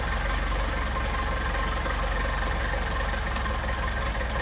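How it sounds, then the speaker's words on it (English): A Mercedes 190SL with Solex carburetors idles cold at a low, steady rate, a continuous near engine rumble with no talking over it. "Now the idle, it's only running about 500 RPM"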